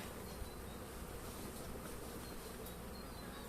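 Honey bees buzz around their hives on a mild 15 °C February day as they are fed protein cakes. A dense, steady drone fills the whole clip at low volume, with no pauses and no voices.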